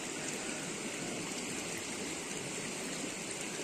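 Steady broadband rush of a river stream flowing past a rural riverside, constant and fairly close, with no voices over it.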